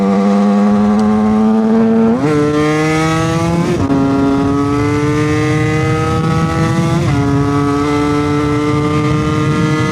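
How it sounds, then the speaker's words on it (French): A motorcycle engine drones loudly at high speed, its pitch climbing steadily and stepping through gear shifts, with wind rushing past. "le bruit de la moto"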